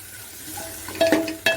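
Sambar spices and chopped vegetables stirred in a pan over a low flame, a soft steady sizzle with a few sharper scrapes of the spoon near the end, close and fairly quiet.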